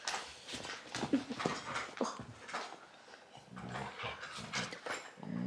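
A small dog makes whimpering, snuffling and growly sounds close by, brief bursts scattered among quiet moments.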